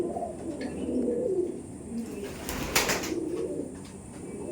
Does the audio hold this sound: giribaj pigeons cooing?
yes